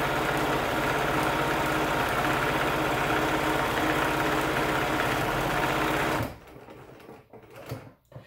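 Stitching on a McCall's bag, a sewing machine hums steadily for about six seconds and then stops, leaving faint handling sounds.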